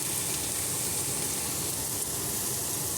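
Onions frying in hot oil with green chillies and curry leaves in a pan, a steady close sizzle and crackle that runs unbroken from start to finish.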